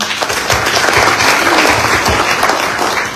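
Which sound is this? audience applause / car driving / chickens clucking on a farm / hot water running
audience applause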